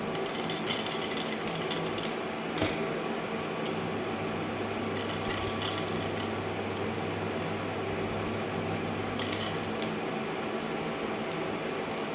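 Clusters of quick crackling pops over a steady background hum, mustard seeds spluttering in hot oil, coming in short bursts a few seconds apart.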